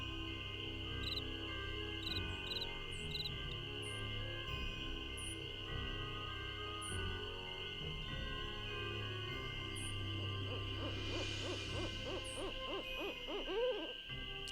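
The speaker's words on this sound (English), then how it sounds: "I hear something. Maybe it's an owl." An owl gives a series of soft, low hoots at night by Moon Lake in Nancy Drew: Ghost Dogs of Moon Lake, over a steady chorus of crickets. Sharp chirps sound now and then, and a brief rustle comes near the end.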